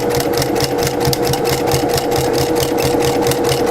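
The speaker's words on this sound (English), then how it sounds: "And we're sewing." A sewing machine stitching a baby blanket, with a fast, even mechanical whirr and rhythmic needle clatter running steadily and close, with no talk.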